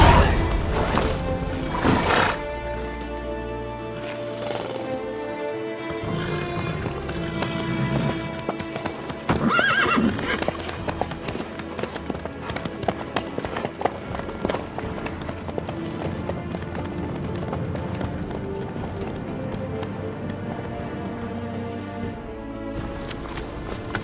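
A horse's hooves clip-clop steadily as it is ridden in the Witcher 3 video game, with a brief whinny, all under a continuous game music score.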